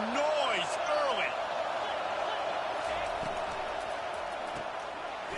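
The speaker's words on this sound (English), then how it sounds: "This crowd bringing the energy and noise early." Steady stadium crowd roar from the NCAA 25 college football video game, a dense continuous wash of cheering with a few rising whoops early on, holding loud throughout.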